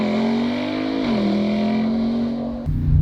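A 2020 Chevrolet Corvette C8 convertible accelerates hard in a 0-60 launch, its engine tone holding and dipping briefly at a shift before surging louder into the next gear, heard from inside with no talking.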